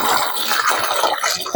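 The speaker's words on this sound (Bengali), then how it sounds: "এগুলোকে আমি বোটাটা খুলে ধুয়ে নিব" Running water splashing as small vegetables such as carrots are rinsed, a close, continuous wash of water with small gurgles throughout.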